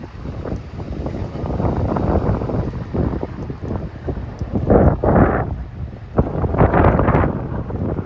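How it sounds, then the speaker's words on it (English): Wind blows steadily by the water at a cold, breezy beach, buffeting the microphone in continuous rushing gusts that swell louder in the second half, with no talk over it. "Can you hear the wind?"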